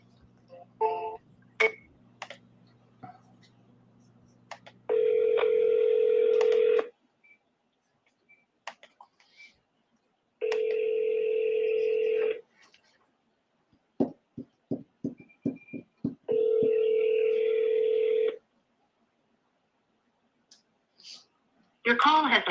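An outgoing telephone call: short dialing tones and clicks, then three long, loud ringback tones separated by gaps of near silence, with a few faint clicks between them.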